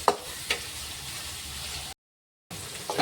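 Sliced onion frying in a pan for beetroot palya gives a continuous soft hiss and sizzle, with a couple of stirring taps, briefly cut off by a moment of silence.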